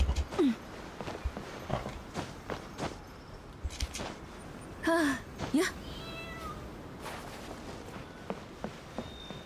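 Several short cat meows from a cat in the video game Genshin Impact, scattered across the moment among faint footsteps and light game sounds, moderately close and clear.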